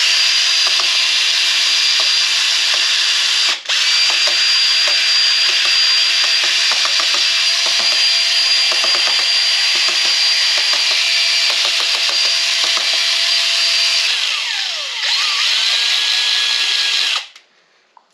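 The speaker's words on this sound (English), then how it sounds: "I just take a piece of rod on a drill" A power drill spinning a rod in lanolin rust coating whirs steadily and loudly for a long stretch with small rattles and scrapes, then winds down and stops.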